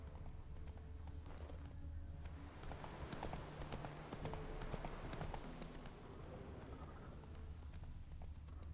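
Roach the horse gallops in The Witcher 3, fast rhythmic clip-clop hoofbeats thudding continuously and close, with game ambience beneath and no talk over them.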